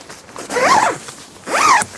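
A tent zipper is pulled twice in two quick, rasping strokes, close and clear, with a short pause between them.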